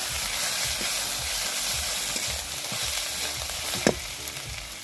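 Ginger garlic paste hits a pan of browned, salted onions and fries with a steady, close sizzle, broken by the scrape and knock of stirring and one sharp clack near the end.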